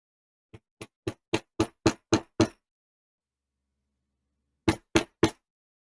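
A stitching chisel is hammered into leather for a custom cuff, giving a quick run of eight sharp, close knocks, a pause, then three more evenly spaced strikes.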